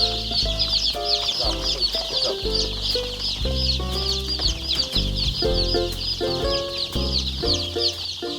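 Chickens and chicks on a farm in Dangjin, South Chungcheong, clucking and cheeping steadily and close by, with bright high peeping running continuously over deeper repeated clucks.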